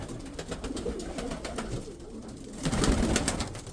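Several pigeons cooing in a loft where eggs and squabs are kept, soft repeated coos layered over rustling and flapping, loudest near the end.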